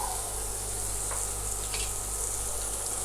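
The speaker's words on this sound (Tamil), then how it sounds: "இப்போ இதை வந்துட்டு ஒரு 2 மினிட்ஸ் நம்ம இந்த ஆயிலில் நல்லா ஃப்ரை பண்ணி எடுத்துக்கலாம்." Finely chopped onion and curry leaves frying in oil in a pan, a steady close hiss and sizzle with a few faint stirring taps throughout, no talking.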